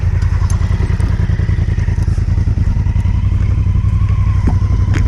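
Adventure motorcycles rumbling up and settling into parking on an outback Queensland trip to Carnarvon Gorge, a loud close engine drone with steady low throb and some clattering thumps, no talking.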